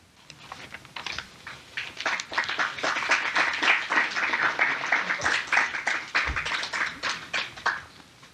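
An audience applauds at the close of a spiritual talk, a dense patter of many hands clapping that builds and holds steady for several seconds before easing off.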